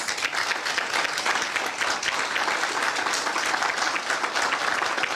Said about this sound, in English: please, if you all can, give them a round of applause